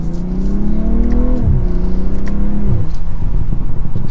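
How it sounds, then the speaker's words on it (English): A BMW M340i sedan with an inline six-cylinder engine accelerates hard in sport mode, its loud, steady engine note climbing through the revs and dropping at two quick gear shifts. "We're setting off now in the BMW M340i."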